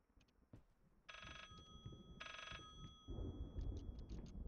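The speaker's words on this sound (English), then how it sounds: "Where is that phone?" Telephone ringing in the horror video game Layers of Fear 3, with two long electronic rings separated by a pause, fairly loud over low game ambience and a few short chimes.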